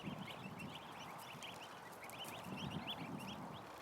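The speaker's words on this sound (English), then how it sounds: "too much fun, these ducks" Ducks and a Chinese goose call in a barn, with a dense overlapping chorus of quacks and honks at a steady, fairly faint level and no speech.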